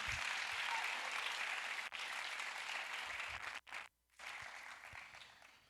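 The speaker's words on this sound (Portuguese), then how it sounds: "Dê um aplauso se você é crente." A church youth congress audience claps loudly and steadily for several seconds, a dense sustained round of applause that briefly drops out near the end and then resumes.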